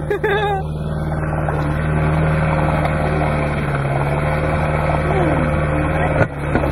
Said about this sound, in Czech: A ten motor si myslím, že se taky snaží.